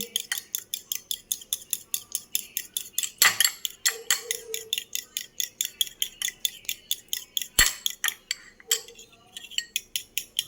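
An egg beaten briskly in a bowl with a utensil, a fast regular run of sharp clinking strokes close by, with a couple of louder knocks partway through.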